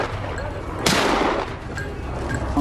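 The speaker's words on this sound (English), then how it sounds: "rifle raised, aim fired" A single loud rifle shot rings out on a snowy slope during a winter wild boar hunt, a sharp broadband crack followed by a decaying echo over steady outdoor background noise.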